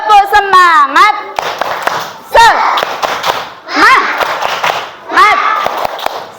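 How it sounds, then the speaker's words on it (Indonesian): An Indonesian madrasah class performs the rhythmic 'tepuk semangat' spirit clap, with bursts of patterned group clapping alternating with children's loud chanted voices, fairly close and energetic. "Yuk, 1, 2, 3, tepuk semangat."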